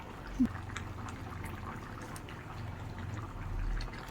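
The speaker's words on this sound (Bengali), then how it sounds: "সামান্য রিফাইন্ড অয়েল দিয়ে দিচ্ছি এবার" Refined oil being poured into a pot of rice for mutton biryani makes a soft, faint liquid trickle over a low simmering bubble, heard alone with no talk.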